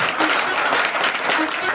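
Brisk applause from a school gathering for the teachers and the school of Jagruti Vidyalaya at an outdoor bamboo tree-planting event, a dense burst of many hands clapping close by, loud and steady throughout.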